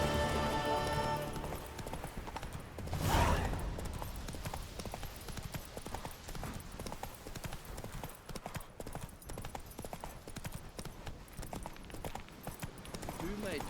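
Hooves gallop in The Witcher 3, a steady clip-clop rhythm running through the whole stretch, with voices speaking over it and a brief louder burst near the start.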